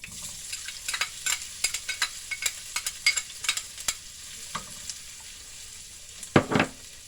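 Peppers and onions frying in hot grease for a pantry meal with dehydrated eggs, a steady soft sizzle broken by repeated crackling pops and stirring clatter, with a louder burst near the end; no talking.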